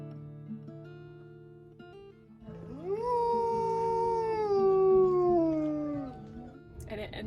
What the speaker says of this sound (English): all the wolves were howling